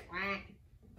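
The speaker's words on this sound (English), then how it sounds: "And on that farm he had a duck" A single duck quack in the middle of a children's farm song, a short nasal call that rises and fades within half a second, heard clearly over a quiet background.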